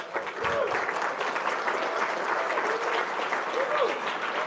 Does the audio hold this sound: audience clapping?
yes